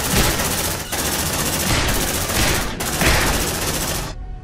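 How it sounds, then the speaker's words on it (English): Sentry gun firing in Aliens: Dark Descent, loud continuous automatic bursts in several long strings with brief gaps, ending abruptly. "Deploying sentry gun."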